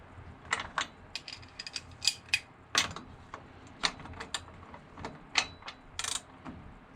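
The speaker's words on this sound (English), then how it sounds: "I cannot get the ratchet all the way down in the socket" A ratchet turns a spark plug socket on an Echo PB-250LN, giving quiet, irregular bursts of close mechanical clicks with short pauses between them and no talking.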